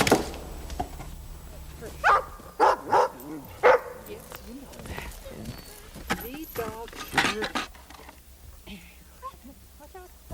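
Sled dogs eager for their meal bark and yelp in short loud bursts close by, with a few sharp cries early on, while a person talks over them.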